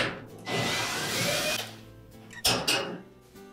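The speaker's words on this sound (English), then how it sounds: "just simply remove that screw and that'll allow you a little more room to work with that switch and harness assembly" Power driver whirs while backing out a 1/4-inch hex head screw on a Whirlpool dryer, a close motor whine for about a second, followed by two short sharp clacks of metal parts.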